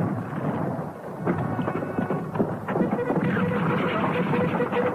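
Heavy rain pours steadily during a battlefield thunderstorm near Waterloo, with low rumbling thunder rolling underneath the dense hiss; the storm stays loud and continuous throughout, with no clear talk.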